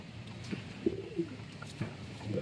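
Soft, low pigeon coos come in a few short murmuring phrases against a quiet background, with no talking.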